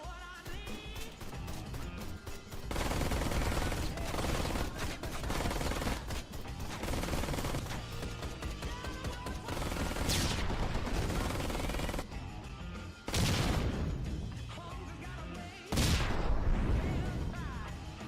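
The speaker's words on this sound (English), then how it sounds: "You were awkwardly thrown into a turret segment." Turret gunfire in a video game pours out in long, loud automatic bursts with heavy blasts, separated by a few brief pauses.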